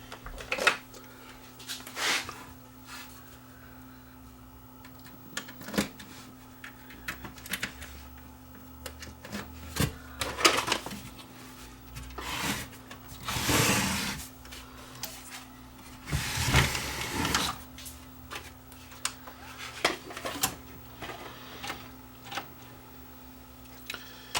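A Toshiba DVR620 VCR/DVD combo powering up and running after being plugged in, with scattered mechanical clicks, whirs and a couple of longer loading noises over a steady low hum, fairly quiet and close, with no talking.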